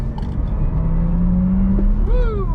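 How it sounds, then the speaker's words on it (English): A Porsche Taycan Turbo Cross Turismo electric wagon runs at speed on the Nürburgring, giving a steady loud drone and whine that rises in pitch near the end, with road and wind noise throughout. "Incredible driving performance from the Taycan"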